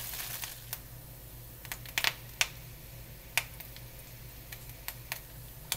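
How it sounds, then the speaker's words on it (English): Yellow pond lily seeds popping in a pan: scattered, sharp little pops and ticks at irregular intervals, faint and close, over a quiet background hum. "I'm doing them now so you can just see them popping."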